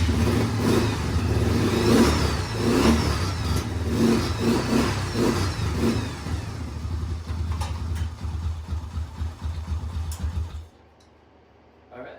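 A Honda Fourtrax 300 ATV engine, once seized and just freed, runs loud and close with a rough idle that rises in repeated revving surges before cutting off abruptly near the end.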